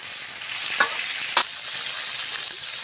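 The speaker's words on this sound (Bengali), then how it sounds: "এখানে আমি আলু পটল সুন্দর করে একটু ভাজা ভাজা করে নেব" Potato and pointed gourd pieces sizzle steadily in hot oil, a close, even frying hiss broken by a couple of brief stirring scrapes, with no voices.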